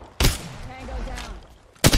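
Gunfire in Apex Legends: two loud, sharp bursts of shots at the start and the end, with quieter game sounds and a brief voice between them.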